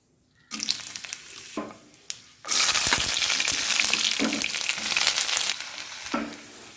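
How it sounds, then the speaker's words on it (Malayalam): Oil sizzles and spits in a pan on the stove while making Kerala-style prawn curry, starting with short bursts of frying, then a loud sustained hiss that continues before easing into shorter sizzling bursts. "നമ്മളൊരു പാൻ അടപ്പത്ത് വെച്ച് അതിലേക്ക് എണ്ണ ഒഴിച്ചിട്ടുണ്ട്."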